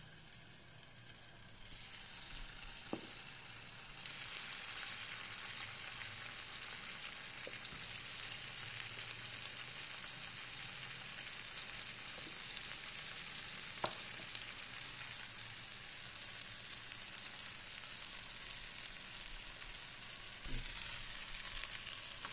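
Fish fries in a pan with a steady, bright sizzle that swells as it goes in and holds for over twenty seconds, with occasional utensil taps and no talking.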